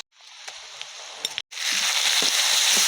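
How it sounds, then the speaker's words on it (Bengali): Garlic paste sizzles and fries with golden brown onions in a pan, a steady bright hiss with stirring clicks, briefly cut off near the middle before resuming louder and fuller. "রসুনের কাঁচা গন্ধ যাওয়া অবধি খুব ভালোভাবে নেড়ে চেড়ে এটাকে ভেজে নিয়েছি"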